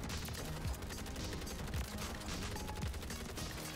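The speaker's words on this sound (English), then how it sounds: "And more explosions." Dense, continuous battle noise from a Call of Duty MW3 match, with bursts of gunfire and blasts layered into a steady loud roar and no voices.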